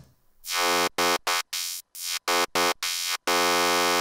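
A thin, buzzy psytrance synth lead on an Access Virus A, through a 24 dB per octave high-pass filter stripping its low end, plays a choppy run of short notes and a final held tone, loud with no other sounds.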